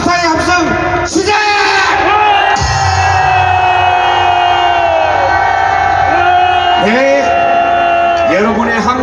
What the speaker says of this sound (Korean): 그분들에게 다시 한번 감사의 함성 시작!